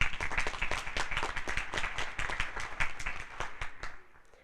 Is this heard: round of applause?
yes